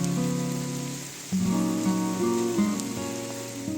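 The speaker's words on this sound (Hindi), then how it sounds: "जब मैं घर वापस आ रहा हूँ तो बारिश शुरू हो चुकी है अब।" Rain falling steadily on surfaces in a rural village, a continuous wash of drops with a hum of tonal background sound running underneath throughout.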